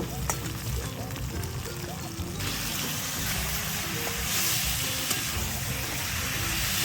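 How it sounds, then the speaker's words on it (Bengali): Marinated free-range country chicken hits red-fried onions in a hot pan for a village-style curry, giving a steady, dense sizzle close by with a brighter hiss swelling partway through and faint clinks underneath. "পেঁয়াজটা লাল করে ভেজে মেখে রাখা মাংস দিয়ে দেব।"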